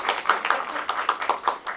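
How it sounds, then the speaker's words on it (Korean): A small audience claps for a film director at a screening Q&A for a documentary about transgender lives, sparse uneven hand claps close by, no talking. "박수 한번 부탁드리고요"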